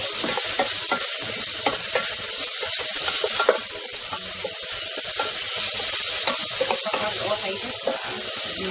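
A lard cube melts in a hot pan with tomatoes for sautéed cabbage, sizzling loudly and continuously while a utensil stirs and scrapes close up.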